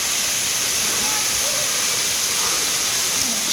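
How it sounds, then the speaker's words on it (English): Water drips and pours steadily off mossy rocks in a waterfall at Gap Creek, a dense, continuous hiss of falling water close by with no clear voices. "I like the way it's dripping out of those little mossy things."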